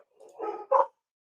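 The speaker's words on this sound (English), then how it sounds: "dog only during my live streams does he bark like this?" A dog in Las Vegas barks twice in quick succession, a softer first bark then a louder sharp one, close by and alone.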